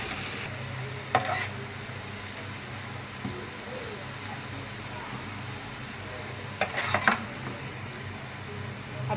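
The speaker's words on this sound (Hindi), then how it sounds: "अब प्याज को हमने हल्का ब्राउन करना है।" Chopped onions frying in hot oil toward light brown for a fish curry, a steady soft sizzle with a few sharp clinks of a spoon against the pan near the start and end.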